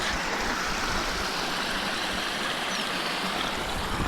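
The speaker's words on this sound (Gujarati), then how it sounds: "ધાટડી નદી કઈ રીતની ચાલુ થઈ છે એ તમને દેખાડો" The Dhatadi river runs freshly after rain, a constant broadband rush of flowing water, close and steady throughout, with no voices over it.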